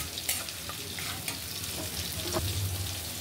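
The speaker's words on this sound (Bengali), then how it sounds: "তো মাছ ভাজতে দিয়ে দিলাম, আর এদিক দিয়ে হচ্ছে কাঁচামরিচ পেঁয়াজ এগুলাকে ভেজে নিচ্ছি" Fish frying beside green chillies and onions in oil gives a steady, close crackling sizzle with faint stirring ticks, briefly heard without talking.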